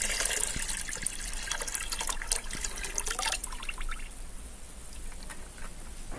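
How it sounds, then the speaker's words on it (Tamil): A tap runs water into a half-filled bucket at a farm, a steady splashing and trickling fill close by, with brighter gurgles early that settle into a softer, lower flow. "ஒரு அரை பக்கெட்லேருந்து முக்கால் பக்கெட் வரைக்கும் தண்ணி பிடிச்சிக்கிறோம்"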